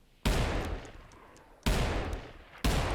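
Gunfire in the Wild West battle royale game Grit, three loud sharp shots spaced about a second apart, each followed by a brief rumbling decay.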